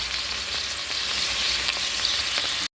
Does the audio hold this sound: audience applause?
no